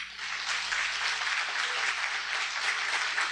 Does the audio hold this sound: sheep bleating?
no